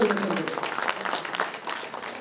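A political gathering in Rajasthan breaks into loud, dense audience applause welcoming a speaker, a continuous wash of clapping that holds for about two seconds.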